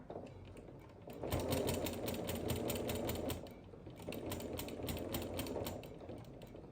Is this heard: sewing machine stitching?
yes